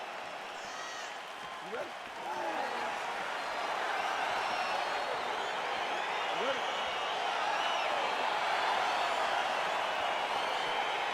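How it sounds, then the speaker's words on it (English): A UFC Fight Night arena crowd roars steadily and builds as a bout gets underway, with dense cheering and clapping running throughout beneath a voice speaking close by. "crowd getting excited as this fight gets underway"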